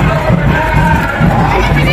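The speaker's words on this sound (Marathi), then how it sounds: "खूप गर्दी इकडं" A large, dense crowd of pilgrims at a temple fair for Rangpanchami at Madhi's Kanifnath shrine, a steady close murmur of many voices and shouts.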